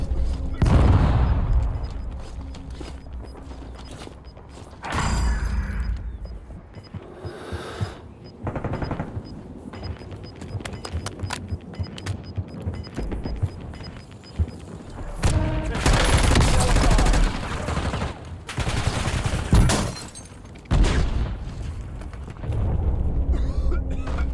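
Gunfire in the battle-royale video game Call of Duty: Warzone: bursts of automatic fire and booming explosions come and go across a long stretch of loud game audio, with in-game voices speaking over parts of it.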